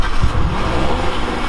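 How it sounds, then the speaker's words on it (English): A car's exhaust at a Tartan Tarmac car meet, a loud, close engine rumble with a brief low-frequency surge of revving early on, then a sustained steady drone. "I'm waiting to hear this exhaust."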